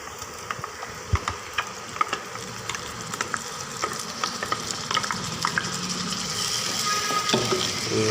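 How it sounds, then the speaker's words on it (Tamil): Tomato and a ground paste sautéing in a pan while cooking a macaroni dish, a continuous close sizzle broken by sharp scrapes and clicks of stirring, with no talk. "தக்காளி போட்டு கொஞ்சம் வதக்கினே இருக்கணும்"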